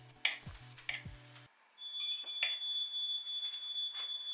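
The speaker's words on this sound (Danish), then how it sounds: "Nu er røgalarmen i gang igen." A home smoke alarm sounds a steady, piercing high-pitched tone that starts partway through, with rustling and handling noises around it and no talking.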